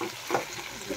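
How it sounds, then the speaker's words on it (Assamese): Food frying in a pan gives a steady close sizzle with a brief stirring scrape partway through. "এয়া আমি ফ্ৰাই কৰি আছোঁ দেখিছে কি ধুনীয়া লাগিছে দেখিবলৈ"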